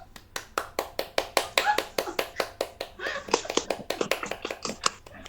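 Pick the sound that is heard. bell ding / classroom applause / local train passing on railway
classroom applause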